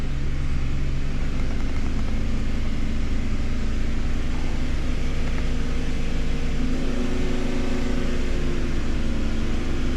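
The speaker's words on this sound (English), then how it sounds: "Let us give it some throttle real quick. 2500." Car engine held at about 2500 rpm during an exhaust and oxygen-sensor check, a loud, steady droning hum that continues evenly throughout without talk.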